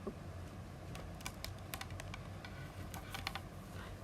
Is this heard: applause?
no